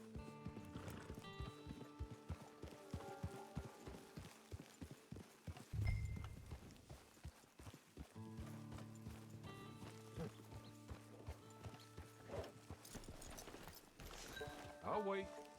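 Horse hooves clip-clop steadily in the Western video game Red Dead Redemption 2, with a whinny partway through, under game music and spoken dialogue.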